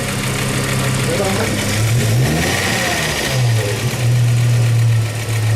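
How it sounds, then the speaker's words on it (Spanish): A car engine is revved during an alternator RPM test with a diagnostic tester, climbing from a steady idle to a rising whine, easing back, then holding at a higher, loud, sustained drone close by. "Aceleramos el vehículo, el equipo detecta el incremento de RPMs"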